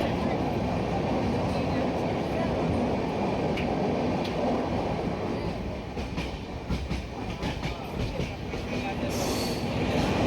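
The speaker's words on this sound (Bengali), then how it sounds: "এখন আমাদের ট্রেন টানেলের ভেতর থেকে যাচ্ছে" A passenger train travels through a tunnel with a loud, steady rumble and a rushing roar, while wheel clatter and occasional sharp clicks run throughout.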